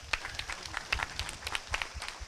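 Applause breaks out from an audience at a book release event held on Buddha Purnima, with scattered, uneven claps rising and falling steadily throughout, moderately loud and without talk over it.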